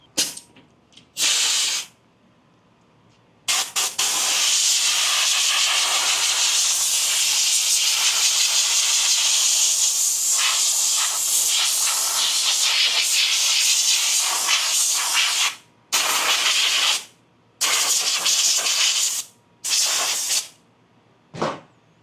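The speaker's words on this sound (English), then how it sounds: "I'm going to use the compressed air and stay out here so that I'm blowing high-speed air at it" Compressed air blasts at a cotton air filter from a Harley-Davidson M8 Softail, with loud, close hissing: a couple of short bursts, one long sustained blast, then several more quick spurts.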